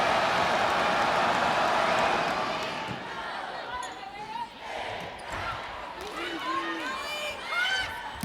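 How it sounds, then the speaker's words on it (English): Crowd at a Penn State at Nebraska volleyball match in Lincoln: a loud roar of cheering that swells and then eases, with squeaking shoes and a commentator talking over it. "Crowd now getting into it here in Lincoln."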